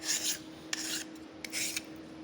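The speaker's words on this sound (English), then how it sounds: "Yeah, you get the edge filed and it looks a lot better." A hand file rasps along the edge of an aluminum bracket in three quick, faint strokes separated by brief pauses, up close with no voices.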